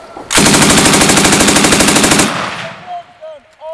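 A machine gun fires a sustained, loud burst of rapid, evenly spaced shots for about two seconds at a live-fire range, then stops abruptly, leaving echoing tail and faint shouted voices.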